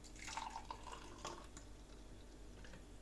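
Watermelon cocktail being poured, heard as a light, close trickle with scattered drips over a quiet background, with no talking.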